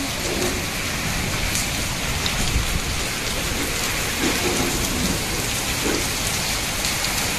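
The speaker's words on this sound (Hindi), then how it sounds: "बारिश हो रही है बहुत तेज" Heavy rain falls hard and continuously, a dense steady hiss of drops pounding surfaces close by, loud throughout with no voices.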